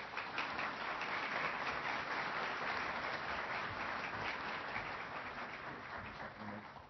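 Audience applause welcoming the speaker at a December 2012 University of South Carolina commencement ceremony: dense, steady clapping from a large crowd, sustained at an even level throughout without speech.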